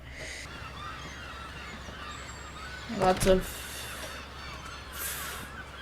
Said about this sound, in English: There's so many birds. Seagulls.